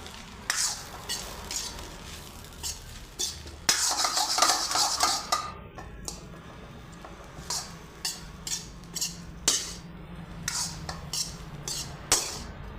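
Black rice is stirred and mixed in a pan, with a spoon scraping and clinking against the metal in repeated uneven strokes, close and fairly quiet over a low sizzle, with no talk.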